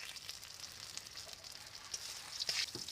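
Bay leaves and dried red chillies sizzle in hot mustard oil in a wok, a soft continuous crackle with scattered pops, fairly quiet and alone without voices.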